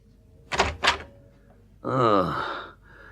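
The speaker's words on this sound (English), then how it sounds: "I was aroused out of the dreamless by the sound of the door opening" A door opens in a radio comedy drama: two soft wooden thuds in quick succession, followed by a sleepy sighing voice.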